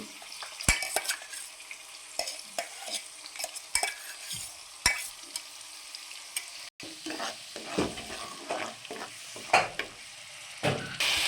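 Onion paste and chana dal fry in a pan with a quiet, ongoing sizzle under repeated spoon scrapes and clinks against the metal, stirred in irregular bursts. No voices.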